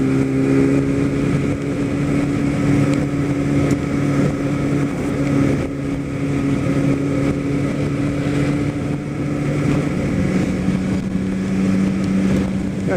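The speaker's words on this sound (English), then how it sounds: "Got quite a group of motorcycles behind us there." A group of motorcycles rides in staggered formation on Ortega, producing a continuous loud engine drone with layered steady tones from several bikes, wind noise throughout, and no talking.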